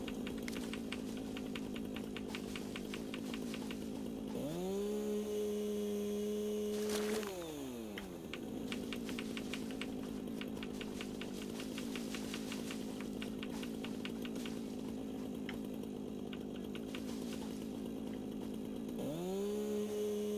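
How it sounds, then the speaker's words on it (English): Chainsaw in the video game Satisfactory revving loudly, a steady buzzing drone with sharp pitch rises around five and nineteen seconds and a brief drop near seven seconds, continuous throughout with no talk. "Reminds me of the chainsaw in 7 Days to Die."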